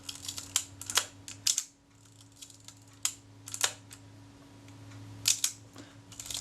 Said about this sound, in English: That was the film releasing it before I got to the shutter. And the shutter shortly afterwards.